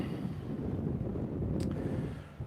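Steady wind buffets the microphone aboard a Hanse 460 sailboat under sail, a constant low roar filling the clip with no talk.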